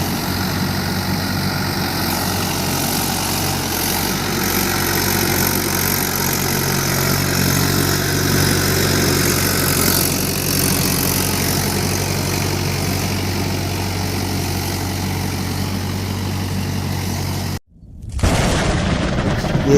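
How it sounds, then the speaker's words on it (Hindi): A tractor engine puddling a paddy field drones steadily at close range for a long stretch, a deep rumbling idle-like hum, then cuts off abruptly near the end. "फिर भी ट्रैक्टर द्वारा लेव लगाया जा रहा है।"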